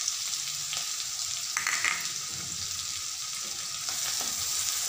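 Ginger-chili paste and green garlic fry in a pan for broccoli sabji, giving a continuous close-up sizzle and crackle, with some faint stirring scrapes.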